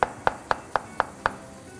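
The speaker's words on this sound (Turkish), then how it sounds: "Eğer isterse dediğimiz gibi şu şekilde de hemen mantarımızı doğramaya başladık." A knife chops mushrooms on a cutting board in six crisp, evenly spaced knocks about a quarter second apart, close and clear with nothing else audible.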